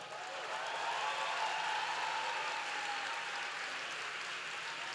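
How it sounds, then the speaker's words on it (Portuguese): Audience applause at a literary festival panel, a steady broadband wash of clapping sustained across the whole stretch at moderate level with no voices over it. "Uma salva de palmas."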